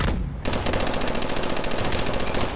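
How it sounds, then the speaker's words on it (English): Rapid automatic gunfire from a futuristic weapon in the video game Call of Duty: Advanced Warfare, a sharp burst followed by a fast, even stream of loud shots with no talk over it. "Quick trigger, Mitchell. Wait for orders next time"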